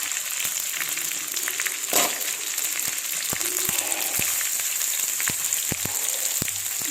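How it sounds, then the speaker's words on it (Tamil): Carrots, beans and broad beans sautéing in oil for sambar: a steady close sizzle throughout, with scattered sharp pops and occasional stirring scrapes. "அவரைக்காய், பீன்ஸ், இது எல்லா காயும் நல்லா எண்ணெயில் வதக்கி எடுக்கணும்"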